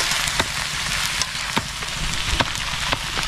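Steady rain falls on a small fishing boat at sea, a dense close hiss broken by occasional louder drops and taps, with no voices.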